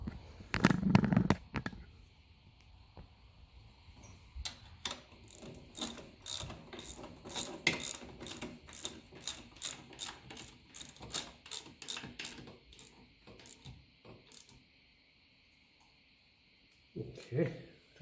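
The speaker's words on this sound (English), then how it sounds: "I'll get a spanner for that when we're at it." A spanner ratchets on a nut on a 1954 Ferguson TEF 20 diesel tractor, giving close, quick bursts of clicking turns with pauses between them, plus a loud knock near the start.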